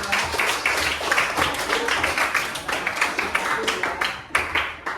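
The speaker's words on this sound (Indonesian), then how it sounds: "tepuk tangan untuk kita semua" Students in a classroom clap together in a quick, steady patter of hand claps that runs the whole time, fairly close and loud, with a brief louder burst near the end.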